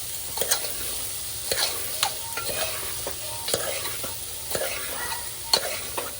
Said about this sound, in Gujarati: મિક્સ કરી દેવાનું છે બધું સારી રીતે